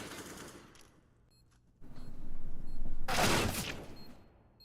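Gunfire during a Counter-Strike esports match, ENCE versus SKADE: a quiet stretch, then a rising burst of rapid rifle shots swelling into one loud, dense volley before tailing off.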